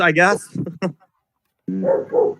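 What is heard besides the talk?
dog barking in the background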